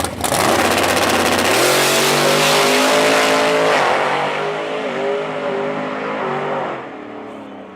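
A hot rod race car engine roars loudly nearby, revving up and climbing in pitch before holding a sustained, rough drone that eases slightly toward the end.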